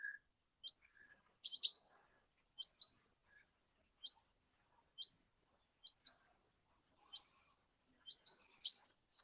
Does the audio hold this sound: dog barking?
no